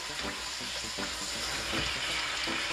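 Peppers frying in a pan with strips of flank steak, a steady close sizzle with soft stirring scrapes throughout and no talking.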